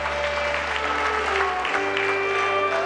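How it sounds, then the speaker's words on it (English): Congregation clapping hands in church during praise and worship, a steady dense wash of applause with sustained organ or keyboard tones underneath. "Give the Lord a mighty clap of hands."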